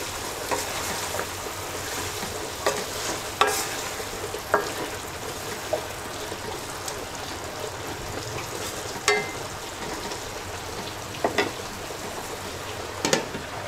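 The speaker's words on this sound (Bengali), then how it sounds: "ঢাকনা খুলে একটু নেড়ে দিচ্ছি।" Dried fish curry with jackfruit seeds and taro stolons cooks in a pan under a low, steady sizzle, with a handful of sharp spoon scrapes and clinks as it is stirred. The sound is close and moderately quiet, with no voices.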